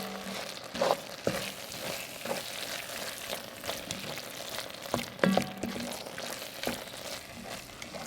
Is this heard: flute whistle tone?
no